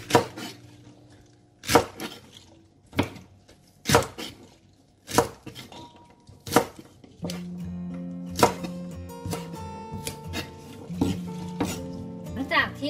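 A knife chops vegetables on a board in slow, separate heavy strikes, then lighter clatter of utensils and kitchen clinks follow, fairly close.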